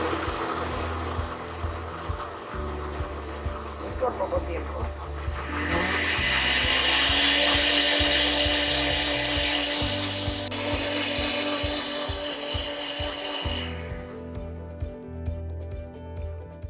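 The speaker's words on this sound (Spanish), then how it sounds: "el jitomate, que en este momento vamos a moler en la licuadora" A household blender grinds tomatoes for a soup, with loud whirring in bursts that swell into a sustained roar midway and then cut off. A person speaks briefly over it.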